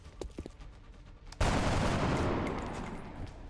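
A soldier's weapon fires in XCOM Enemy Within, one sudden loud blast that rolls into a long, gradually fading roar, after a stretch of quiet clicks and faint game sounds.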